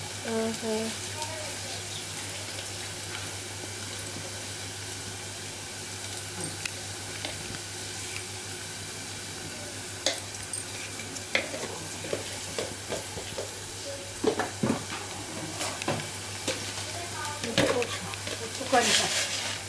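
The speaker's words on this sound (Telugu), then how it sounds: "అల్లం వెల్లుల్లి పేస్ట్ వేసి మటన్ని కలుపుకోవాలి" Mutton with turmeric and ginger-garlic paste is stirred and fried in a pan, a low continuous sizzle with scattered scraping and clinks of stirring growing busier toward the end, with faint voices in the background.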